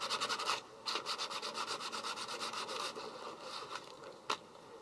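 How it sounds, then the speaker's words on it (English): Sandpaper scuffing the sides of a Rubik's cube during a Siamese 3x3 build gives close, rapid rhythmic rasping strokes with a brief pause near the start and a sharp click near the end. "You can actually take your sandpaper and scuff up the sides to make sure that the glue will stick a little bit better"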